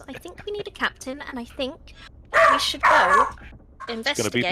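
A dog barks loudly in the room in two harsh back-to-back bursts, cutting in between stretches of people talking around a tabletop role-playing game.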